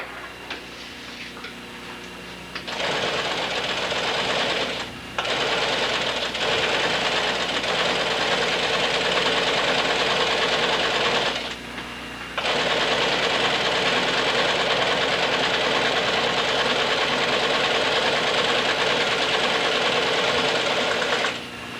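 A sewing machine stitches the welt of a leather shoe near the edge, running in long loud bursts of rapid mechanical ticking separated by two short pauses, with no talk.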